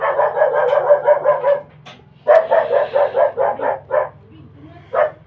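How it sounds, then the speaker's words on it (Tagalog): A dog barks in quick repeated bursts, two runs of rapid barks separated by a short pause, then a final single bark, fairly close and loud over a low background hum. "Yan, ingay ng aso namin."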